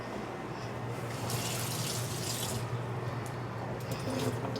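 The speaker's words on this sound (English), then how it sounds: "Just gonna run them over some water real quick." Tap water runs steadily into a kitchen sink, rinsing food for a garlic dip, a continuous close splashing hiss with slight shifts as the food moves under the stream.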